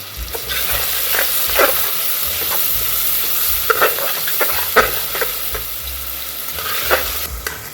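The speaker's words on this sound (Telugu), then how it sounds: "ఉల్లిపాయలు కూడా మనం ఇప్పుడు వేగనిద్దాము" Onions frying in a pan for a mutton kheema and ridge gourd curry, a steady broadband sizzle with occasional stirring clicks and spatula scrapes, close and continuous with no talking.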